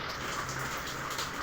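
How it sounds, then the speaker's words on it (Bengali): Steady rain falls in a quiet spot near an old canteen room, making a faint, even hiss that lasts the whole short stretch with no voices over it. "বৃষ্টি ভালোই হয়েছে, এখনো চলছে।"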